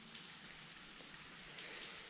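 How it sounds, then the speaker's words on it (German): Heavy, historic rain falling at night in flooded Croatia, a dense, even hiss of drops drumming on a surface without a break, fairly close and alone. "Hoffentlich werden wir heute Nacht nicht überflutet von diesem historischen Regen"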